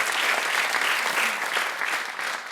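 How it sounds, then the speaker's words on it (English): Convocation audience applauding together, a dense, steady clatter of many hands that stays loud throughout and eases slightly near the end, with no talk over it. "give yourselves another round of applause for being in the Guided Pathways expansion"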